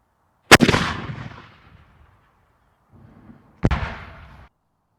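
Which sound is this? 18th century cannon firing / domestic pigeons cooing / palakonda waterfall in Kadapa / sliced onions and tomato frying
18th century cannon firing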